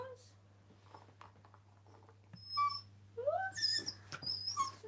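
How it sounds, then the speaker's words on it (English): Excited dogs whimper and whine indoors in rising, high-pitched cries, growing louder toward the end, over a low steady hum with people talking nearby. "Oh, you can hear the dogs crying."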